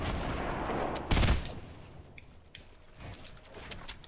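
Gunfire in the Fortnite battle royale game, with one loud burst followed by scattered fainter shots and clicks against a noisy background.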